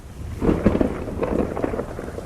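Heavy rain falls with rumbling thunder as a night storm sound effect in a Bengali audio story, with a steady close wash of rain and deep rolling bursts and no voices.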